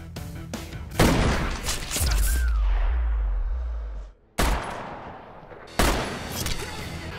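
Combat shotgun gunfire in a John Wick action film: loud, heavy blasts with booming low rumble, one sustained roar, an abrupt cutoff, then two more sharp, close shots.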